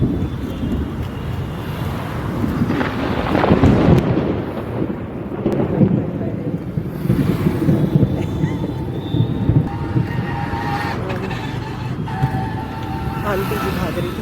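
Outdoor rain on an evening street, with broadband rushing and low rumbling that could be distant thunder, plus wind buffeting the microphone; the wash stays steady and fairly loud throughout, with faint voices mixed in.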